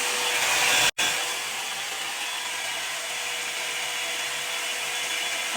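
Close, steady whoosh of a blow dryer on medium heat warming the lace of a wig, running continuously apart from a brief cutoff near the start, with no talk.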